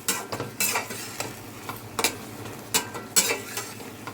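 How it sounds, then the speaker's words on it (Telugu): Tomatoes frying in oil for Telugu tomato pulusu are stirred in a pan, sharp scraping strokes of a spoon recurring every second or so over a soft, steady sizzle, close-up with no voices. "టమాటా పచ్చివాసన పోయినంత వరకు వేగిపోయింది."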